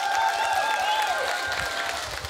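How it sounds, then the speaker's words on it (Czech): Big applause from an outdoor concert audience at the Hojana na Jána 2019 festival in Bitarová: steady, dense clapping from a large crowd, loud and unbroken, with a sustained ringing tone held above it. "Veľký potlesk."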